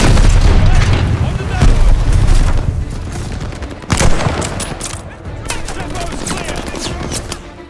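Gunfire in Call of Duty: Vanguard, sharp rifle and machine-gun bursts with booming impacts, loud and close, coming in irregular clusters over rumbling battle noise.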